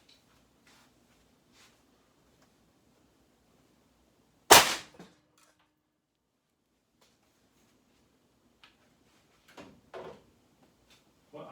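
A Zeus 72 caliber ultralight 575 grain hollow-point fired into ballistic gelatin gives one sharp, loud gunshot crack in an otherwise quiet space, followed later by faint clicks and handling noises.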